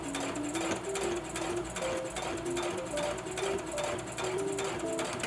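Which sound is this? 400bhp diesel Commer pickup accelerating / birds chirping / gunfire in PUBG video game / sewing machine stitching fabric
sewing machine stitching fabric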